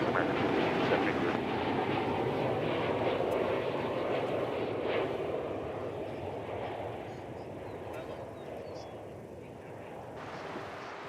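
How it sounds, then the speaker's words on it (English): A passenger airliner on flight 2496 from Omaha, Nebraska, arriving at Dallas/Fort Worth Airport, its broad engine roar loud at first and slowly fading over about eleven seconds. "Here comes flight 2496 from Omaha, Nebraska."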